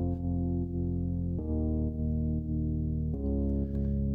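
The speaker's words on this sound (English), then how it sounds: "We've got the bass, which sounds like this." Deep synthetic sampled bass notes sound in octaves, sustained and buzzy, shifting pitch twice over a few seconds with no talking.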